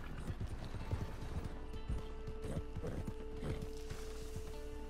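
Rhythmic clip-clop of horse hooves in Red Dead Redemption 2 Online, steady close footfalls with faint mechanical clicks and a tonal hum beneath.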